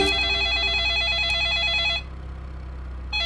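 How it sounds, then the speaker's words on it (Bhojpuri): A telephone rings with a steady warbling electronic tone, loud and close, for about two seconds, pauses briefly, then starts ringing again at the end. "जीजा जी का फोन उठाए बात करें"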